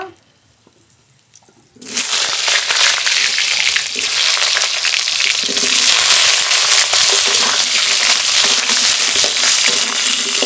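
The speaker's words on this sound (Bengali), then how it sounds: "কেটে ধুয়ে রাখা আলু ভেজে নেব।" Cut, washed potatoes drop into hot mustard oil in a wok and break into a loud, continuous sizzle after a quiet start, crackling steadily close up with no talk.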